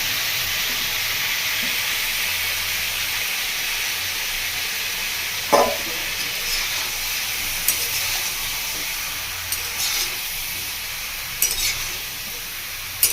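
Thinly sliced onions and tomato fry in a kadai with a steady, close hiss and sizzle. Occasional soft clicks and scrapes of stirring break through it.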